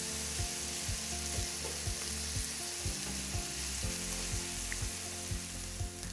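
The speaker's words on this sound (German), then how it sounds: "Wenn das Öl heiß ist, geben wir das Gehackte dazu." Ground meat for Bolognese sauce frying in hot oil, a steady close crackling sizzle with regular spatula scrapes and stirring taps, no voices.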